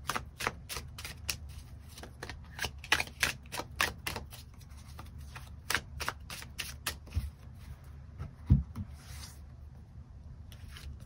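Tarot cards being drawn and shuffled, with a rapid series of crisp flicks and slaps that come in irregular bursts, close and fairly quiet, and thin out toward the end.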